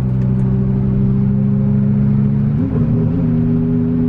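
Twin turbo Lamborghini Huracan engine droning at a steady cruise, loud and close, with a brief shift in pitch partway through as it downshifts and begins to pull harder.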